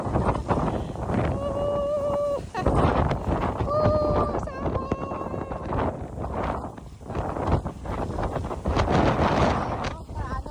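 Strong, cold wind buffets the microphone in gusts while people talk over it outdoors at the Hilton Okinawa.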